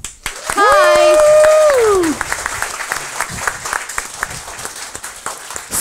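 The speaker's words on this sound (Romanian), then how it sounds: "haideți să dăm o rundă de aplauze" A studio audience claps and applauds for a TV talk show, loud, dense applause that tapers off after a couple of seconds, with a voice calling out a greeting over it.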